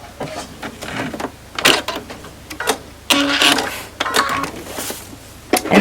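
A sewing machine back-stitches with white thread in short bursts of rapid mechanical clatter, stopping and starting repeatedly at close range.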